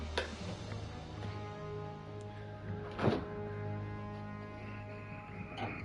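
Quiet handling at a freezer: soft thuds and knocks as a door and plastic water bottles are moved, with one sharper clunk midway over a low steady electrical hum.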